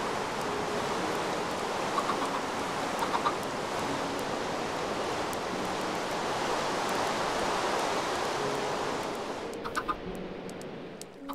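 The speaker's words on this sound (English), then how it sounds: "Ah, rain! I hate rain!" Steady rainfall in the Minecraft video game, a dense, even hiss that runs unbroken from start to finish with no talking, joined by a few faint, brief clucks from chickens near the start and again near the end.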